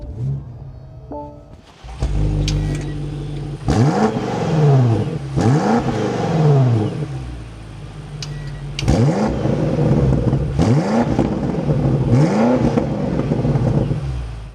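A 2027 BMW X6M Competition engine cranks and starts with a roar, then settles into a steady idle broken by several loud revs, each rising and falling sharply.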